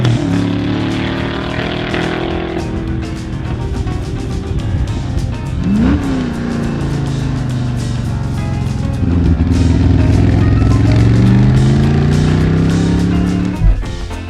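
A Shelby Cobra 427 with its 7-litre V8 roars loud and close, revving up and down in long rising and falling sweeps with a sustained throaty drone and no talking.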